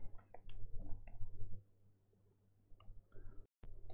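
A computer mouse clicks while drawing in a CAD program: a few sharp, faint clicks spaced irregularly over a low steady hum, with no one speaking.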